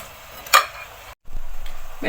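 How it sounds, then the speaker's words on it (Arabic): Vegetables for potato soup sizzle and crackle softly in a pot, with a brief clink of a utensil and a short pause before the frying resumes. "نخليها تقلى شويه"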